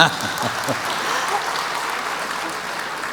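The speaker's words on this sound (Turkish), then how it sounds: "Buyurun alkışlayın." Steady audience applause at an award ceremony, a dense, fairly loud wash of clapping with a few sharper claps at the start and no talk.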